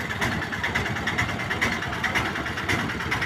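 A 1962 Russian-made model 22 tractor, started on petrol and then run on diesel, idles steadily up close with a loud, even chugging throb and no talk over it.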